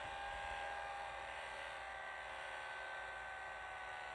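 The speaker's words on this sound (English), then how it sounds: "now I'm going to give the heat gun a try, and we'll see if we can see the plastic starting to melt" A heat gun runs continuously while melting a plastic drainboard, giving a steady, fairly faint electric hum and blowing hiss with no breaks or talking.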